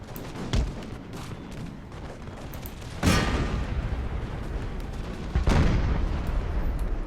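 Dragoons open fire in the Imperial Splendour strategy game, three distinct musket volleys crack out a few seconds apart over a rumbling battlefield din.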